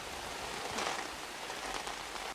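Steady cartoon rain pours down continuously, a dense hiss of falling drops that stays even and fairly loud throughout, with no voices over it.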